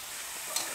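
A pot of Thai curry with barometer earthstar mushrooms is stirred, giving a soft steady scraping hiss with two faint clinks near the end. The sound is quiet and close, with no talking.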